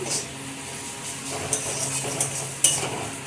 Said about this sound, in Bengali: এবার ভালো করে সব কিছু মিশিয়ে নিব